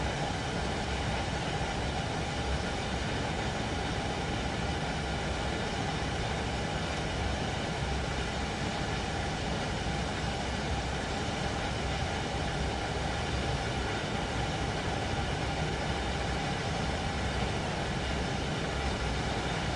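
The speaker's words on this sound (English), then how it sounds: "do we get any to see any trains running down the old C2C lines?" A train in Train Sim World 3 rumbles on the C2C line as a dense, unbroken roar of rail noise and engine drone that holds steady and fairly loud for the whole stretch, with no talking.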